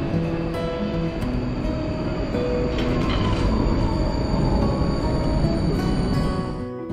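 A Vienna tram on route 1 runs along city rails with a loud, steady rumble and faint high wheel squeal, heard from inside and easing off slightly at the end.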